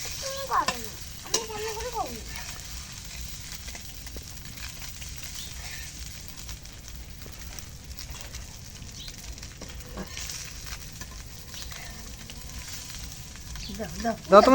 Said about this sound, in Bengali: এখন মাছটা ভাজা হয়েছে দেখি না